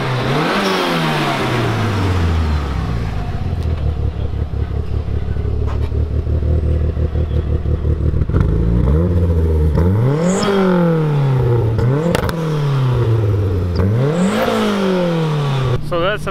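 A Mitsubishi Evo 3 engine idles roughly, then revs up and down several times in loud, rising and falling sweeps close by, at a car meet.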